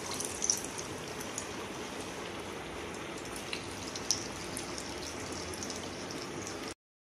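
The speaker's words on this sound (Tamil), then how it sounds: "ஆயில் நல்லா சூடாயிருச்சு. இப்போ அதில் வடையை தட்டி போட்டுக்கலாம்." Banana flower vadai patties frying in hot oil, a steady, dense sizzling hiss with small crackles and pops, close and fairly quiet, continuous until it cuts off abruptly.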